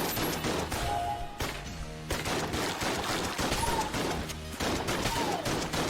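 Gunfire from the video game Exit the Gungeon, dense and continuous bursts of shots and impacts crowding together, with small pinging effects flickering through, loud and busy without a break.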